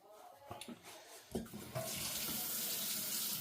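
Tap water runs into a sink while polishing buffing pads are rinsed, starting after a few close handling knocks and then gushing in a steady, broad hiss.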